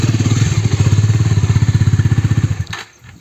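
A motorcycle engine thumps in a rapid steady rhythm, close and loud, then cuts off abruptly near the end, leaving near silence.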